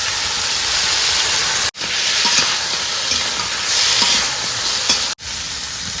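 Crab curry stir-frying in a pan, producing a loud, dense, continuous sizzle and hiss close up, briefly cut off twice, with no talk.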